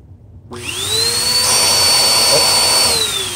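A Bissell Powerforce bagged vacuum cleaner switches on and runs steadily during a suction test, a loud, close whine with a high rising tone that holds and then dips near the end.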